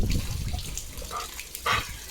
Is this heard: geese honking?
no